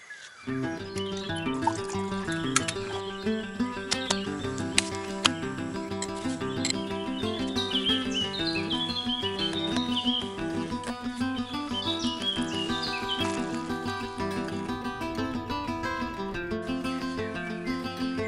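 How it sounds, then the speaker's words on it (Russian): Birds sing on a morning riverbank along the Dnieper, a steady layered chorus of chirps and tweets running through the whole stretch at moderate loudness, with no talk over it. "Птицы поют."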